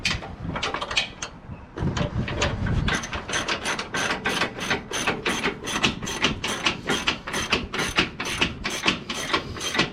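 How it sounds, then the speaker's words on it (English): An old hand ratchet clicks in a fast, steady rhythm while working on the lower ball joint of a 2009 Ram 1500 2WD during an upper control arm replacement. The sharp, close ratcheting continues for the whole stretch with no talk. "Get this old ratchet."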